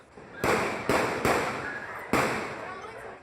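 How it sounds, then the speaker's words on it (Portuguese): Gunshots ring out during a street shootout with police in a Rio de Janeiro neighbourhood, four sharp loud reports at irregular intervals, each trailing off in echo, heard alone. "Tiroteio tá rolando aqui no meio da rua."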